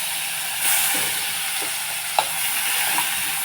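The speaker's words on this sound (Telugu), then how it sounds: "ఇప్పుడు నేను నెత్తలు ఇందులో వేసేస్తున్నాను" Dried fish dropped into a hot pan of oil, sizzling and frying steadily at close range, with a few soft stirring knocks and clinks of a utensil against the pan; no one talks.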